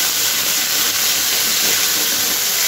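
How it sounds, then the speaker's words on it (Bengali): Ginger and fennel paste sizzles in hot oil in a home kitchen, a loud, continuous, even hiss that holds steady from start to finish, with no voices. "মা দিয়ে দিল তেলের মধ্যে আদা আর মৌরি বাটা।"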